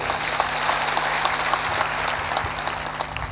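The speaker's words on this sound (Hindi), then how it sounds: "जोर से ताली बजाया करो" At a satsang spiritual discourse, a crowd breaks into dense, sustained clapping that stays at an even, full level throughout, a continuous roar of many hands.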